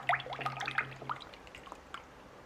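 About 500 millilitres of fresh cream is poured into a mixing bowl for a lemon cheesecake, giving soft splashy drips and glugs that fade after a second, quiet and close.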